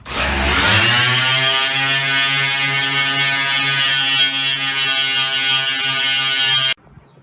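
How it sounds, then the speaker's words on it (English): A loud, steady electric buzz of welding drones close by for several seconds, then cuts off abruptly. "I'm gonna flip it over on the other side and weld it up before it breaks apart on me."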